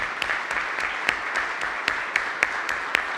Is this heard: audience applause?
yes